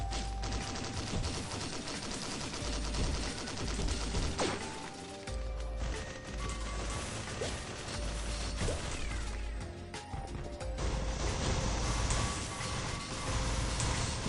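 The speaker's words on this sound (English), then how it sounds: "See, I'm shooting missiles a lot more often now." Rapid bursts of missile fire in the video game Risk of Rain, dense overlapping blasts and crashes in a loud continuous barrage with busy game sound throughout.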